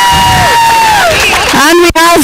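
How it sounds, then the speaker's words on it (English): A crowd at a women's tournament award ceremony cheers and whoops for an honoree, with high shrill voices rising over the clapping in one short loud burst. "Big applause for Prosi Nadkarni."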